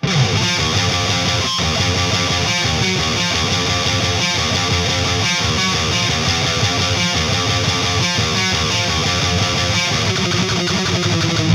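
Heavily distorted electric guitar plays the main riff of a song: a dense, loud, chugging wall of sound with continuous palm-muted rhythm.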